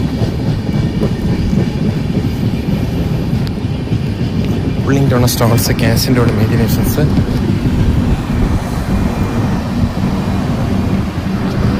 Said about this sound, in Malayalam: ട്രെയിൻ ട്രിവാൻഡ്രം സെൻട്രലിൽ കൂടി കടന്നു വന്ന് ട്രിവാൻഡ്രം സൗത്ത് ഡയറക്ഷനിലേക്ക് കടന്നു പോകാൻ ശ്രമിക്കുന്നു